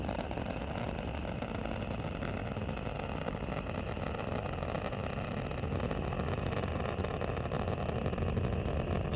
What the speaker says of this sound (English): Endeavour's engines are now throttling down as the orbiter begins to pass through the area of maximum dynamic pressure